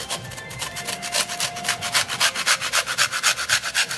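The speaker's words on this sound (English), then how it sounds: "Take a frozen pepper and grate it inside there." A frozen hot pepper rubbed against a small hand grater, giving a rapid, regular run of rasping strokes, loud and close, that speed up toward the end.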